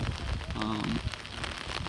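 Steady rain falling on a rainy day in California, a close, constant hiss and patter filling the short stretch with a brief tonal sound briefly rising over it.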